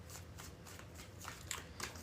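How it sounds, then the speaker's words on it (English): A deck of playing cards is shuffled several times in a row, giving soft, quick riffling bursts that are faint and close against a quiet room with no talking. "3 more shuffles."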